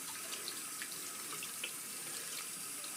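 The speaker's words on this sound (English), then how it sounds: "And then I rinse off my hands so that's clean." Water runs steadily from a tap while hands are rinsed, a constant soft splashing hiss at moderate distance with faint drips and no talk.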